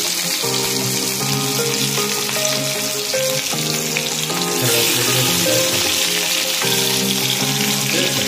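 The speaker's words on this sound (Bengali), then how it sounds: "মাছ ভাজা হচ্ছে।" Turmeric-rubbed taki fish fry in a little oil in a wok, giving a loud, continuous close-up sizzle heard alongside background music.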